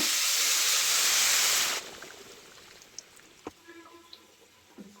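Boiling hot water is poured onto rice frying in a pan, setting off a loud burst of steamy hissing that cuts out abruptly, leaving soft bubbling and a few clinks.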